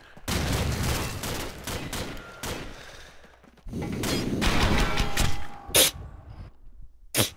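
Rapid bursts of automatic gunfire in a hardcore team deathmatch of Call of Duty, loud and close, with bursts separated by short pauses and a couple of sharp single shots near the end.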